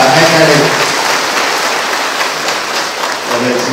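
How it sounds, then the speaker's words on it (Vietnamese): Applause from a congregation at a Catholic wedding mass in a parish church fills the room as a steady, dense wash of clapping, loud and sustained throughout with no break. "Chúng ta cùng vỗ một tràng pháo tay thật lớn để chúc mừng hai chị và hai gia đình."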